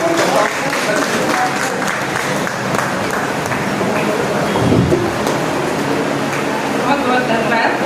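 An audience at a Hindi poetry gathering claps for a poet, a thick, continuous wash of many hands that holds steady for several seconds while a voice carries on over it.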